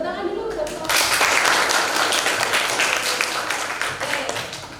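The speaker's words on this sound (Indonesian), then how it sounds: "Tepuk tangan dulu." A classroom of students clapping together after a lesson on anecdote texts, a dense burst of applause that swells and then slowly thins out over a few seconds.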